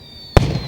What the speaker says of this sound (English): the fireworks are still going up